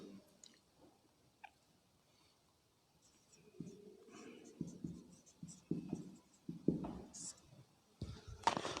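A pen or marker writing out a vector math problem, with faint scratchy strokes at first, then denser, louder scribbling in short bursts, and a brief sharper scrape at the close.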